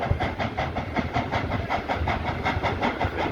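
Dollywood Express steam train rolling along its rails, a steady rhythmic clickety-clack with continuous hiss and rumble, close and fairly loud throughout.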